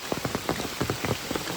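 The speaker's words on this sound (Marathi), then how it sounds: "पाऊस पडतो भरपूर आज" Heavy monsoon rain pours down in Konkan on a fishing outing near a dam, a dense, steady hiss of drops drumming on surfaces with no voices over it.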